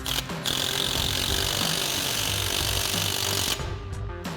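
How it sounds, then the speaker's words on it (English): A power tool drives a 13 mm socket onto the front axle nut of a Ford F-150 during a leveling kit install. It makes a loud, steady whirring buzz that runs nearly four seconds before cutting off, close up. "We'll tighten that back down with our 13 mil socket."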